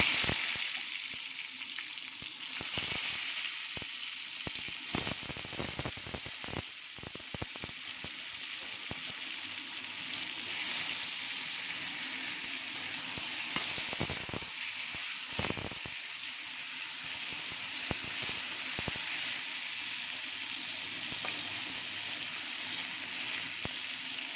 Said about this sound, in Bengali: বেগুনটা ভাজা হচ্ছে